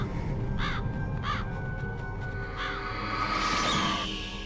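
Ravens in the video game Metal Gear Solid caw several times in close succession, loud and near, over a dense, steady background of game music and ambience.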